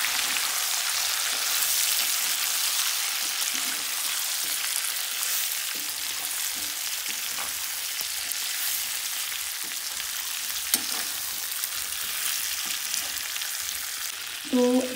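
Pickle spices with kalonji seeds are mixed in a pan, producing a steady soft hiss of gentle frying with occasional faint spoon clicks and a brief metallic clink at the very end.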